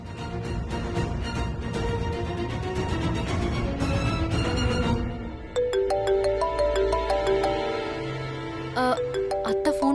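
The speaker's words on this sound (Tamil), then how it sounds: "அத்தை ஃபோன் பண்றாங்க." A mobile phone ringtone plays, first a dense busy melodic stretch and then a clearer repeating chime-like tune, loud and continuous with no talking over it, in a Tamil TV serial scene.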